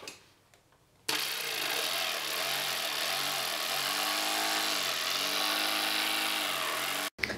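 A power saw cuts through a wooden plank for a bow, starting abruptly with a loud, steady whine and a rising-falling hum as the blade works, running for several seconds before cutting off.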